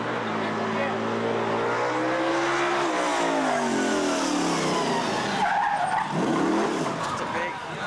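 Race cars skidding and spinning out at a 1988 track event, loud tire squeal and revving engines sweeping past up close, with crowd noise around them.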